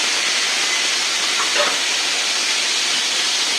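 A pot of sambar thickened with gram or rice flour boils with a constant, loud hiss of steam and simmering, unbroken for the whole moment.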